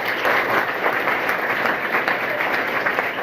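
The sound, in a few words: audience clapping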